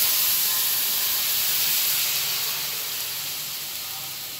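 Water poured into a hot kadai hisses and sizzles while being heated to make caramel, a steady broadband steam hiss that fades slowly over a few seconds.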